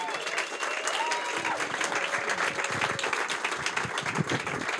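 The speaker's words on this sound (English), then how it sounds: "So, on l'applaudit très fort." An event audience claps loudly and steadily, a dense wash of many hands with no break, while a few voices murmur faintly underneath.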